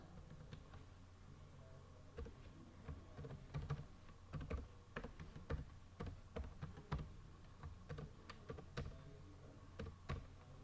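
Computer keyboard typing in quiet surroundings, a steady run of irregular clicky keystrokes with occasional louder key presses, close and alone with no talking.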